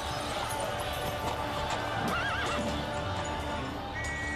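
Horses with hooves clattering on city streets, heard as a dense, continuous scene of neighing and hoof noise amid crowd-like din, with no clear talk over it.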